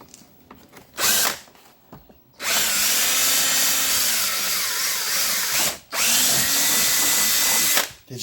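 A power drill bores a hole in three bursts: a short whir, then a long sustained loud grinding run, a brief pause, and another long run, with quiet handling sounds between.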